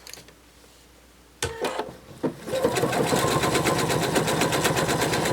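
After a quiet start and a couple of thumps, a sewing machine runs in a fast, steady rattle of rapid stitches, close and loud, sewing the seam of a narwhal plush toy.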